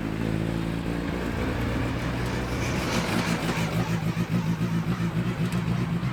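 Modified Ford race cars pull out onto the Brands Hatch circuit, a continuous loud engine drone with revving that builds and pulses as several cars move off together.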